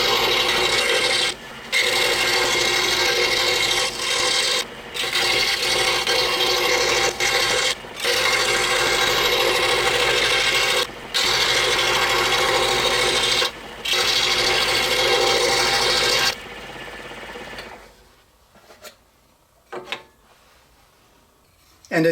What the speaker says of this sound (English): I have a number 3 reverse tooth blade installed, and as I said, we're just going to cut all of these semicircles out